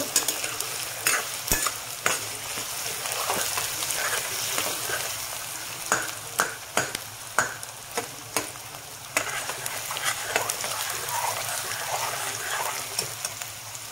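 Onions frying in a pan for chicken roast, a constant close sizzle punctuated by repeated sharp clicks and scrapes of a spatula against metal as they are stirred toward brown.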